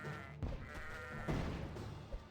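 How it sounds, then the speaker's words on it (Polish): Cartoonish sheep bleats from the video game Kingdom Rush, triggered by clicking the sheep, sounding in a few quick overlapping calls with short bumps in loudness, clear and near, with no voices over them. "Tak, klikam wszystkie owce"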